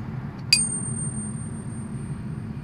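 A metal flute headjoint crown, removed and struck, gives a single brief bell-like ting that rings with a thin high sustain over a low steady room rumble.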